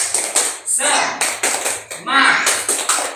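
Several people clap together in quick rhythmic bursts, crisp and close, mixed with children's voices chanting along.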